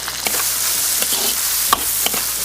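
Beef and shiitake mushrooms stir-fried in a wok with soy sauce and oyster sauce, a bright, continuous sizzle punctuated by several sharp spatula scrapes and clanks against the metal.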